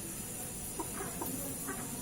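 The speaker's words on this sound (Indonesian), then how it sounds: "Ini ayam yang lagi ngorok, ayam Bangkok" A Bangkok fighting chicken with a respiratory snoring condition gives short, soft rattling clucks and wheezy breaths, a few faint bursts under steady background hiss with some quiet talk.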